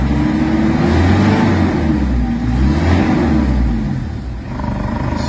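A Mitsubishi Adventure engine with low power revving hard to around 3,000 RPM, loud and close, its pitch rising and falling in surges with no talking.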